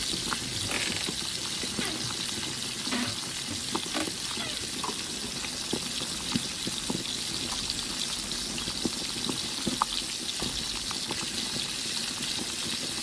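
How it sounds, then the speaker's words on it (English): Garlic and ginger sautéing in a pan for a home-cooked meat dish: a dense, continuous frying sizzle with small crackles and stirring scrapes throughout, fairly close and steady. "Add garlic and ginger. Sauté for 1 minute."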